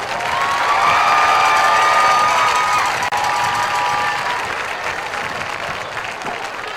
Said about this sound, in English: How about a big round of applause for Coach Schrader?